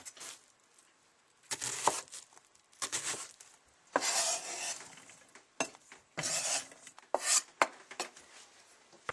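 Knife cutting through an onion on a cutting board in a home kitchen while preparing stuffed venison backstrap, heard as irregular bursts of slicing and chopping with brief pauses between, fairly close and clear, with no talking.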